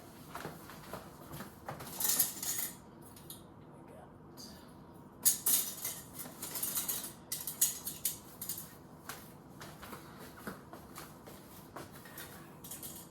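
Light metallic clinks and rattles of canning jar rings being handled, scattered bursts at close range over a quiet background.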